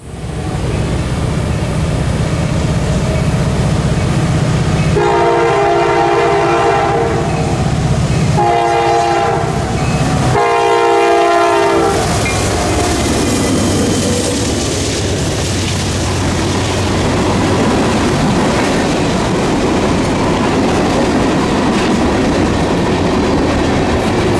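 A CSX freight train led by EMD locomotives rolls past up close, its horn blasting in several long bursts over the rumble and clatter of passing railcars.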